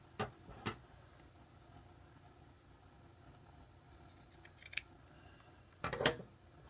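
Scissors snip through paper while a journal is trimmed: a few sharp, quiet cuts spaced apart, with a denser cluster of snips near the end against a faint room background.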